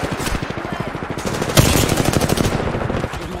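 Rapid automatic gunfire crackles through an Apex Legends ranked match, a steady stream of close, loud shots running the whole time with a sharper burst midway.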